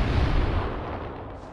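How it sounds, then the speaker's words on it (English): Barrels are shot and burst in The Thing video game, a single loud, deep boom with a rumbling tail that fades out over about a second and a half. "there's barrels over there, so let's just shoot the barrels"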